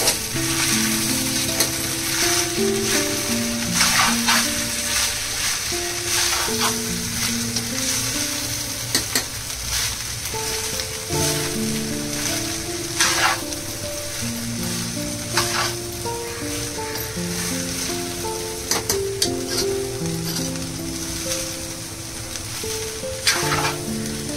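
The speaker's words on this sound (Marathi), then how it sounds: "त्याला चांगला हलवून घेऊया." Food frying and sizzling in a pan for a Hartalika thali, with a spoon stirring and scraping through it in uneven strokes, loud and close with a steady hiss underneath and no talking.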